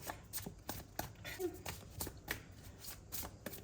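Tarot cards being shuffled by hand in a quiet room, repeated soft riffling and tapping bursts at a steady rhythm, faint and close.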